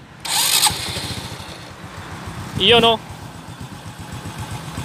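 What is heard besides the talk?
XRM 125 motorcycle engine starting and idling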